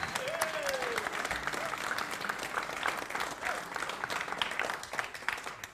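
Audience applause for a traditional Irish piper at a live trad session, steady moderately distant clapping from a crowd sustained throughout, with a faint voice near the start.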